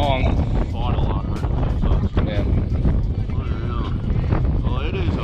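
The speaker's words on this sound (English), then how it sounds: "it is a windy one out here" Steady wind buffets the microphone out on an open Wisconsin lake during a bass fishing trip, a constant low rumble and roar running throughout, with people talking over it.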